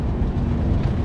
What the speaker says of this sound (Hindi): बहुत सालों बाद आज मैं LHB शताब्दी में जर्नी कर रहा हूँ